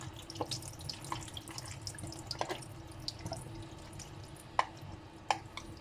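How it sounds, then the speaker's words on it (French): Cooked leeks are rinsed under cold running tap water in a sink, giving a soft continuous trickle with scattered drips and splashes and a few sharper knocks, close and fairly quiet, with no voices. "Donc on va les rincer à l'eau froide, ça va les aider à refroidir."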